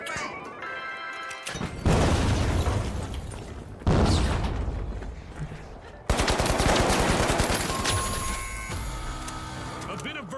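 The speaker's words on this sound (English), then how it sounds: "Tossing a frag." Frag grenade and gunfire blasts in The Finals, several loud booms and crashes in separate bursts, with rapid shots and debris between them, while people talk over the action.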